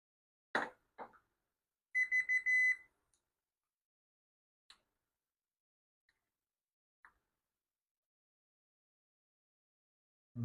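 A multimeter set to ohms beeps during a continuity check on a leaf blower, with a short burst of rapid tones followed by a few faint isolated clicks in a quiet room.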